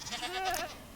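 A Minecraft goat gives a single wavering bleat lasting about a second, clear and close with no talk over it.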